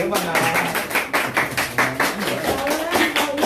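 A group at a barber school graduation ceremony claps in a steady, rhythmic beat of close, bright hand claps, with voices talking underneath.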